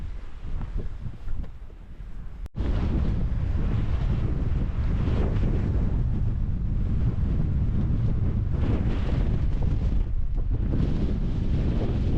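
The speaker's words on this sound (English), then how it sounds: "Well, it's windy as" Strong mountain wind roars and buffets against the microphone in a constant low, heavy rush, after a short, calmer moment at the start.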